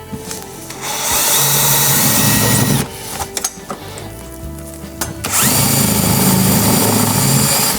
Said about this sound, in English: Right, I just drilled in 2 holes for that.